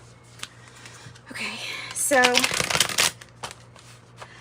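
A Hermetic Tarot deck is shuffled up close in a quick burst of papery riffling, while a soft voice talks quietly just before it.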